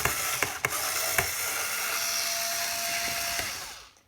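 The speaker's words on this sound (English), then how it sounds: "Got the electric screwdriver and it's super quick." A whirring electric screwdriver loosens screws from a portable TV receiver, a steady motorized buzz with a few sharp clicks near the start and a faint ratcheting tone, fading out at the end.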